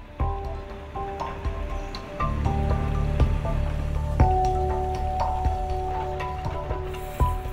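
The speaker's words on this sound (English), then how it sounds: "Deep down, water emerged." Water of the Emscher river in Dortmund-Herder wells up and flows, a steady close trickle and gurgle with scattered drips and splashes over low background rumble.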